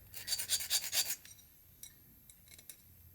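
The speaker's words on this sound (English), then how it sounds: "Now we have to file this end, and this is the end that will go through the ear" Fish hook sharpener filing the end of a wire earring hook: a quick series of about six close, rasping strokes, then a few faint scrapes and taps.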